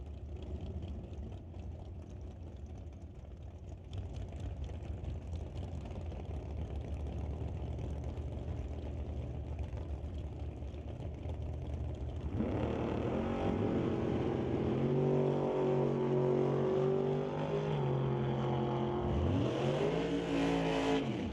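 Drag race cars at a bracket ET series event, one a Blazer, rumble steadily at idle on the line before a sudden loud launch and rising, sweeping engine roar as they accelerate away.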